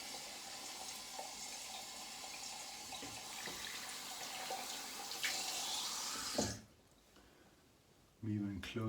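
A face is quickly rinsed under running tap water after a shave: a steady loud gush from the tap flows for several seconds, then cuts off abruptly, leaving near quiet before a voice begins speaking.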